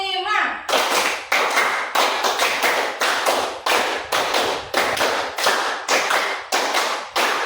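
A class of students claps a counted rhythm in unison, four sets of five sharp claps as a concentration exercise. Each burst lands as a loud, crisp group of beats close by, repeating evenly with short pauses in between.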